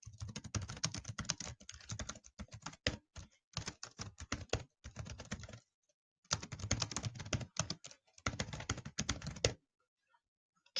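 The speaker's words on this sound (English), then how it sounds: "So we're going to type something very brief." Someone types on a computer keyboard in bursts of quick, close, light keystrokes, pausing a few times and then going quiet near the end, with no voices.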